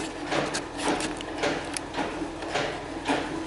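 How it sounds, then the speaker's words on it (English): An old electric Van Dorn Vibrocentric valve seat grinder runs with a rhythmic, pulsing grinding chatter, its bursts repeating roughly every half second, moderately close and unaccompanied by talk. "get the old grinder going here"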